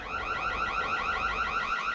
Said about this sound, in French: l'alarme finit par se déclencher